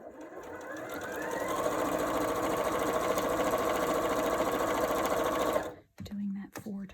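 A sewing machine stitches nested quilt pieces for a kaleidoscope block, running loud and steady for several seconds before stopping abruptly, followed by a few brief handling sounds.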